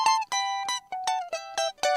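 A lead guitar played through a chorus pedal at its default settings picks out eight bright, ringing notes in a steady rhythm, each with a shimmering harmonic tone, clear and alone.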